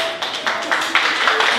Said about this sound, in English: Ruth clapped and then a few others